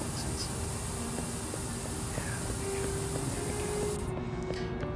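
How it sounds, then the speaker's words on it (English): A spray tool lays down paint in the Passpartout artist game as a steady, even airy hiss that runs unbroken for several seconds before cutting off near the end, with no speech. "Maybe some darker coloration with the spray tool, just to make sense."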